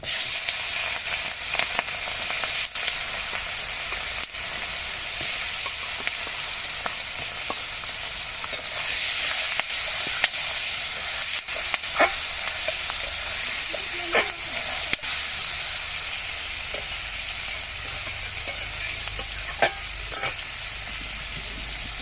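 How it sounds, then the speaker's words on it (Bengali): Prawns frying in hot oil tempered with radhuni seeds and dried chillies, giving a loud, continuous sizzle and hiss for over twenty seconds, punctuated by scattered clicks and scrapes of stirring. "এখন দিয়ে দিচ্ছি চিংড়ি মাছগুলো"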